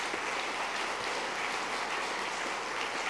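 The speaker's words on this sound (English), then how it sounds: "Let's applaud their noble efforts." An audience claps in a steady, even wash of applause, moderately distant and fairly soft, with no pause across the stretch.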